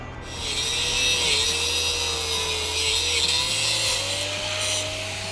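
A cutoff wheel grinder slices through metal brackets on a vehicle in a shop, a loud, continuous high whine with a steady motor drone and slight pitch shifts as the wheel bites, close up, no talking.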